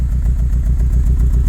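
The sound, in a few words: Saab 9-3 Aero engine exhaust running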